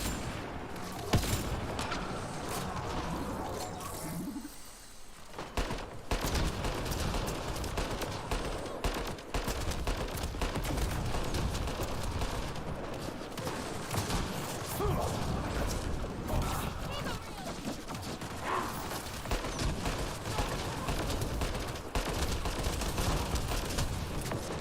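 Heavy artillery-like gunfire in the Mass Effect Andromeda game, dense repeated bursts and booms continuing for the whole stretch, with a voice talking over parts of the barrage.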